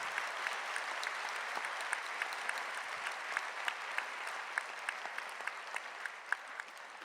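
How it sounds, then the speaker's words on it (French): A conference audience at the Utopiales festival applauds the speakers after a panel on quantum technology: a sustained, even wash of clapping for about seven seconds, with sharper individual claps popping out near the end. "on peut déjà applaudir nos intervenantes pour leurs interventions"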